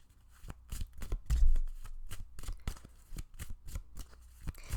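Tarot cards shuffled by hand during a pick-a-card reading: a close, dry run of riffling snaps and soft thumps that pulse in uneven bursts, with no talking.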